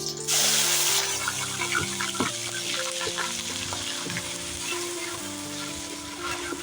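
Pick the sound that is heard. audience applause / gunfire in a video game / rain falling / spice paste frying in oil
spice paste frying in oil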